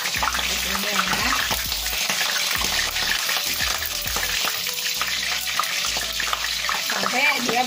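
Eggplant fries in hot oil with a loud, continuous sizzle and crackle that holds steady throughout, close up, over a faint low hum.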